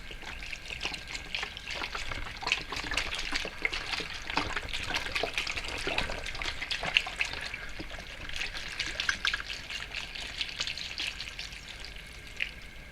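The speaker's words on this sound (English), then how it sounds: "we're going to pour the vegetable stock in" Vegetable stock pours steadily into a pot, a continuous splashing trickle with bubbling texture, close and fairly quiet, with no voices.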